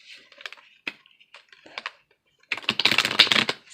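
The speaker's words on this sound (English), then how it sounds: "We are going to shuffle these cards." A newly opened Ink and Intuition tarot deck is shuffled: a few light, scattered card taps and flicks, then a dense, loud riffling burst of shuffling over the final second, with no talk.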